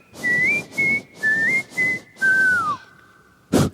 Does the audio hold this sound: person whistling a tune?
yes